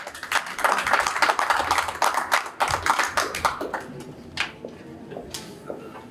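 Applause at a school district board meeting from a small group, brisk close claps that build quickly then thin out into a few scattered final claps and quiet room sound.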